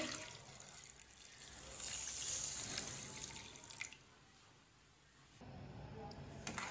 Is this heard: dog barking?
no